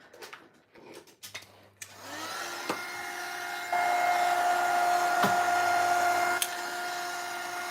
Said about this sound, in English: Now it is time to dry it. You can use your heat gun.